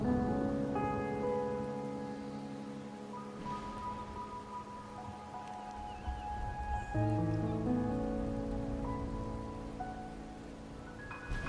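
Rain falling in the video game Wuthering Waves makes a steady soft patter throughout, mixed with sustained musical tones.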